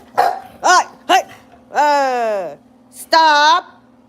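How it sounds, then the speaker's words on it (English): Pet dog Bella barking at home: a few short close barks, then two longer whining, drawn-out yelps, loud and clear against a steady low hum. "Why are you gonna bark and you won't even come in?"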